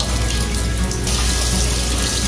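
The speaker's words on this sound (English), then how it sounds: "Now I'm gonna rinse my black beans." Black beans rinsed under a running kitchen tap, a loud, steady rush of water splashing into a sink, close and continuous without speech.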